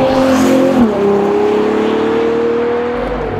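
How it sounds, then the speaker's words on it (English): The V12 engine of a 2024 Ferrari Purosangue sounds loud and close, holding a high rev, then dropping sharply as it shifts down a gear and settling into a steady, slightly falling drone. "changing down through the gears and feeding it into a corner that makes a V12 a very special experience"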